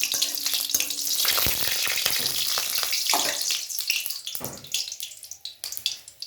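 Whole cumin seeds and two dried red chillies sizzle loudly in hot oil in a pan as it is stirred, a bright continuous hiss that thins into sparser crackles toward the end.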